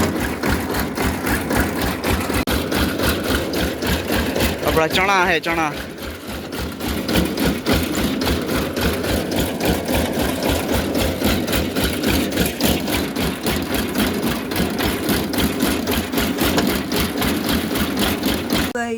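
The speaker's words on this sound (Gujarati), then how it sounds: "અને જઈએ ટ્રેક્ટર લઈને" A tractor engine runs close by with a steady, rapid chugging idle that continues throughout. Voices talk over the constant mechanical throb.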